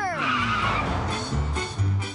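An ambassador's car speeds through Paris streets in pursuit of a taxi, its engine roaring and tyres squealing in a sustained skid, loud and close, with a voice briefly audible over the din.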